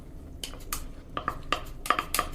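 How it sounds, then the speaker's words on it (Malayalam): A utensil scrapes and clinks against a pan while coconut milk and fresh cream are stirred into beef stroganoff, in several sharp metallic knocks at an irregular pace, close and fairly quiet. "വീണ്ടും നന്നായി ഇളക്കി യോജിപ്പിക്കുക"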